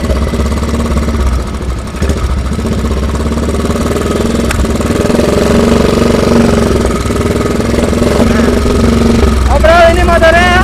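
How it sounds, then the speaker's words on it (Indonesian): A Royal Enfield custom chopper motorcycle rumbles steadily while being ridden, a loud continuous engine drone with wind noise throughout and a short rise in revs near the end. "Overall ini motornya geberannya enak banget sih."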